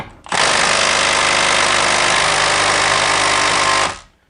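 A Milwaukee 3/8 inch stubby impact wrench hammers hard and nonstop on a stubborn bolt, a loud, dense rattling whir that starts abruptly and runs about three and a half seconds before cutting off.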